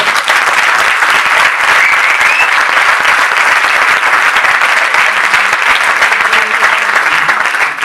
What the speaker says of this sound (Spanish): Un fuerte aplauso para ellos dos.